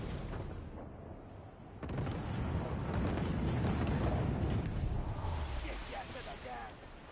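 Ship cannon fire in Assassin's Creed Black Flag, a sustained rumbling barrage of booms that swells loudly after a quieter opening, with shouted crew voices mixed in.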